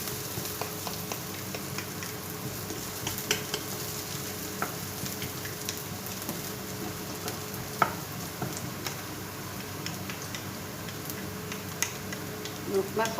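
Chicken breast browning in a pan with a light, steady sizzle, dotted with scattered utensil taps and clicks near the pan while stirring.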